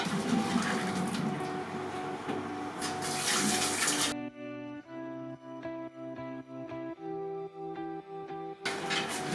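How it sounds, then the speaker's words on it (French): Cold tap water runs over cooked cassava in a kitchen sink, a loud broadband rush for the first four seconds that stops, leaving a quiet tonal hum, then returns briefly near the end. "Le rafraîchir avec de l'eau froide."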